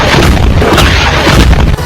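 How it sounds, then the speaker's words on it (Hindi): Heavy explosions rip through a US airbase in Iraq during a drone and missile attack: a continuous, loud roar of booms and blasts with no pause and no voices. "इराक के उस एयरबेस के अंदर एक के बाद एक जोरदार धमाके होने लगे।"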